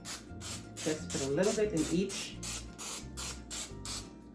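A rapid series of short cooking-spray bursts into a cupcake tin, close and rhythmic, about a dozen quick hisses, while someone talks briefly over them.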